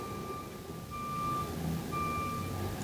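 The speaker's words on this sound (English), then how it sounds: "You'll hear a garbage truck in the background beeping." Faint, steady electronic reversing beeps from a garbage truck somewhere in the distance, sounding over a low rumbling background.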